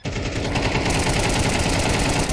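Sustained rapid automatic gunfire in Counter-Strike 2, a dense, continuous rattle of shots with no speech.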